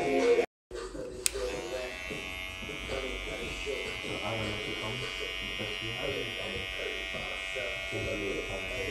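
Electric hair clippers buzz steadily and close up throughout a mid taper haircut, a continuous drone with a brief dropout near the start, while someone talks over it.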